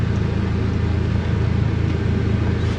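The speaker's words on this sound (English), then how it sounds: "Just engine brake and bringing itself down." Polaris Ranger 1500 Extreme Duty North Star Ultimate Crew side-by-side engine braking downhill, a steady, loud low rumble of the engine holding back the vehicle, continuous and unbroken throughout.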